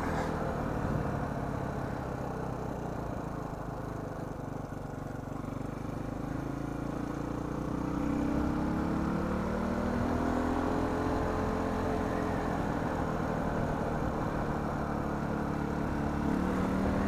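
A Suzuki DR350 motorcycle engine running steadily during a short ride, a loud continuous thrum with wind noise and gradual shifts in pitch as the revs rise and fall.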